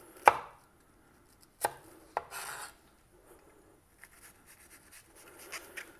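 A freshly sharpened knife chops through an onion on a board in a few sharp, close cuts, then quieter scraping and light taps follow.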